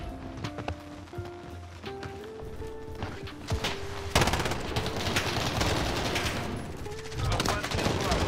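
Gunfire in the video game Modern Warfare, a rapid burst of shots that grows dense and loud midway, mixed with game music tones and a voice talking underneath.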